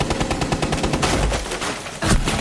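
Rapid automatic gunfire from Rainbow Six Siege rattles in quick bursts, loud and dense, with a short gap and then a fresh volley near the end.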